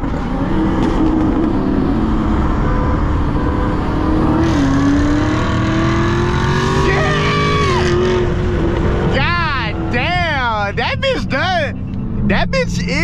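Dodge Hellcat accelerating hard in second gear, heard from inside as a loud, continuous engine roar that climbs steadily in pitch. Excited talk runs over it, and gear-shift sweeps rise and fall near the end.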